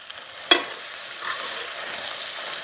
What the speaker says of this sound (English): I'm careful not to scrape the bottom of my pan, especially with the tines of this fork.